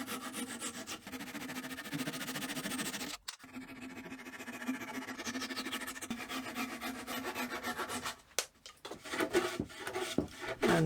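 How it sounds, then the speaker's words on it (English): Hand plane working an uneven wooden scaffold board, a close rhythmic rasping and scraping of repeated strokes, with two brief pauses between passes. "And planing uneven surface."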